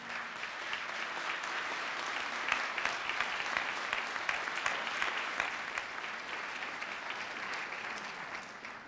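An audience claps continuously at the 2016 Karić Brothers Award ceremony, a dense, even wash of applause holding its level for the whole stretch with no talk over it.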